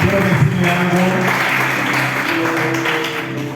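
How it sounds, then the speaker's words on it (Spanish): A youth church congregation claps for the worship leaders, a continuous wash of many hands over soft sustained music, slightly louder at the start and tapering toward the end. "Vamos a darle un aplauso a dirección."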